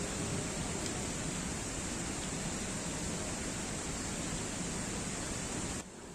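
A waterfall in the Kalej valley near Darjeeling roars steadily and loudly close by, a dense, unbroken rush of falling water with no voices over it, dropping away slightly in the final moment.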